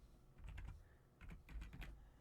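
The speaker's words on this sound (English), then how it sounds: "Typing with one hand, so awesome." Keys on a computer keyboard tapped with only one hand, sounding as two short bursts of soft, uneven clicks close by with a brief pause between them, no voices.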